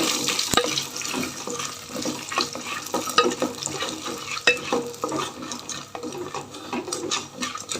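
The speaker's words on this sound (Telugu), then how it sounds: "ఇప్పుడు పల్లీలు వేస్తున్నా గ్రౌండ్ నట్స్ ఏర్చిన గింజలు" Red peanuts and okra frying and being stirred in a pan, a busy crackling sizzle with scraping and clinking of the spoon throughout, close and steady with no talking.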